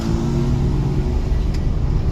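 Close, loud engine rumble of a Ford Raptor pickup truck on the move, a low continuous drone with a slight rise, steady throughout the short stretch, no talking.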